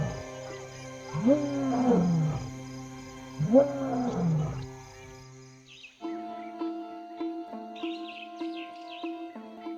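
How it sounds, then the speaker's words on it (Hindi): A lion roars at night on the plains, two deep, drawn-out calls rising and falling a couple of seconds apart, followed by quieter tonal wildlife sounds and faint chirps. "उसकी दहाड़ पूरी रात नियमित अंतराल पर सुनाई देती रहती है।"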